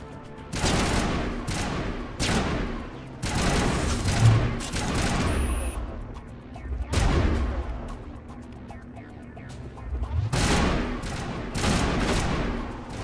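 Repeated bursts of gunfire from the video game Mass Effect, loud and close, with rapid shots and booming impacts in clusters across the stretch and short pauses between volleys.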